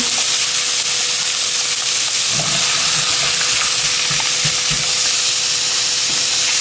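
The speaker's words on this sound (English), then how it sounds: "stir fry." Chicken stir fried with garlic and onions for rosemary lemon chicken, a loud continuous close sizzle throughout, with a few dull scrapes and knocks of stirring at intervals.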